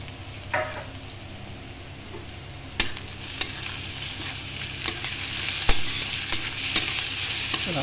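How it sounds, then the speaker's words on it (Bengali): Grated potato frying with onion and green chili in a pan, a continuous close sizzle with scattered sharp clicks and scrapes from stirring throughout. "আলুটা একটু ভেজে"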